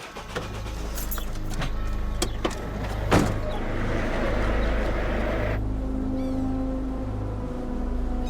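A car door thuds and a car's engine idles with a low steady rumble, with small clicks and shuffling as someone gets in, followed by a quieter cabin hum.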